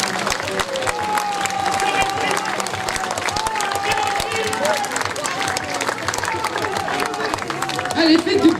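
A crowd on an outdoor podium applauds a costumed participant at a Venice-themed costume event in Chanaz. Sustained clapping and crowd noise blend with a steady sound bed and voices.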